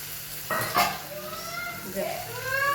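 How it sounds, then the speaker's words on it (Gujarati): Onions, tomatoes and chillies are tipped into hot oil already tempered with mustard seeds, cumin and asafoetida for dal, bursting into a sudden sizzle followed by continuous frying and stirring close by. "એમાં નાખીશું આપણે ડુંગળી, ટામેટાં અને"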